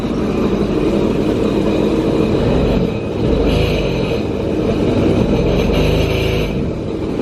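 A 2021 Sea-Doo Spark jet ski's Rotax engine runs and revs out of the water, a loud, rough, low rumble that rises and falls with the throttle and sounds slightly rickety.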